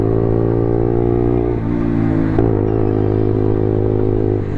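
A 125cc motorcycle with a loud exhaust baffle drones steadily close by, its engine note dipping and rising as revs shift, with no talk over it.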